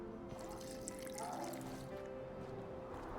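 Water pours into a mixture of burnt lime in The Witcher 2, a steady liquid trickle and splash lasting a few seconds, close and continuous with no speech.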